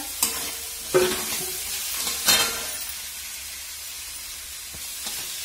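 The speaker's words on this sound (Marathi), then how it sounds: "थोडस तेल टाकून कांदा परतून घ्यायचा" Onion frying in a little oil in a home kitchen, a soft continuous sizzle broken by a few sharp stirring clanks of a utensil against the pan, close and fairly quiet.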